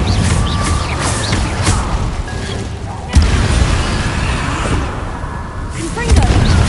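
In Hogwarts Legacy, a wizard casts the Incendio fire spell mid-battle, producing repeated loud bursts and whooshing booms amid ongoing combat noise, with sharp impacts near the middle and at the end.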